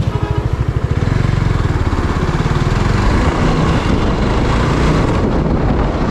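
A Suzuki GSXR sport motorcycle rides fast on a highway from Barishal to Dhaka, its loud engine droning steadily with heavy wind rush, no talking.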